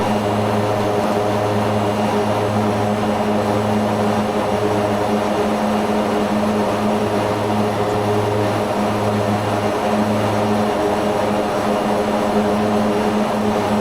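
Mitsubishi MU-2B-60 turboprop climbing out in a flight simulator game, a loud, steady engine drone with a constant propeller hum that holds unchanged throughout, with no talk.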